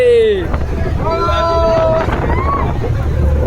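A boat pitching on the open sea near Vivekananda Rock, with steady wind and water rumble throughout and voices talking over it.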